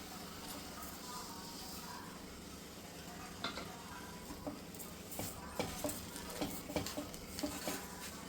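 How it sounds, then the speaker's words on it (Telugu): Rava kesari with sugar being stirred in a pan, with a soft steady scraping and gentle sizzle throughout and sharper spoon clinks against the pan growing more frequent toward the end. "కలుపుతూనే ఉండాలండి, లేకుంటే అడుగు పట్టేస్తుంది."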